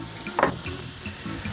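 Pork fillets fry in a pan, giving a steady, fairly quiet sizzle with a brief louder flare of crackle near the start, then a continuous background hiss with no talking.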